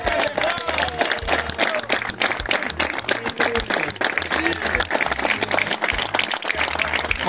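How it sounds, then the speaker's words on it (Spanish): Crowd clapping for the winner of a pejerrey fishing contest in Guaminí, a brisk, uneven patter of many hands with crowd noise and voices mixed in throughout. "Un aplauso para el ganador."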